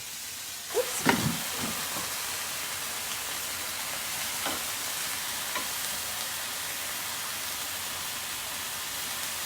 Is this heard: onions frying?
yes